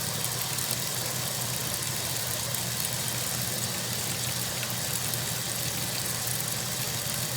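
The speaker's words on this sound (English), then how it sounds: "Now it's agitating better and spinning faster, because I tightened up the belt" A washing machine with a freshly tightened drive belt runs and agitates, giving a steady, continuous mechanical hum and rumble at a constant level throughout.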